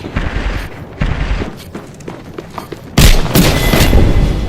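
Video game gunfire in a combat match: sharp bursts and booming shots come in irregular volleys, then a denser, louder stretch of rapid fire fills the last part.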